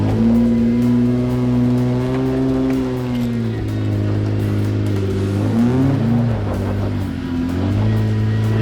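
A Jeep fitted with a UD 44 axle crawls over dirt in low second gear, its engine droning loud and steady with rising and falling revs throughout.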